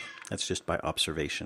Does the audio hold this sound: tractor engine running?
no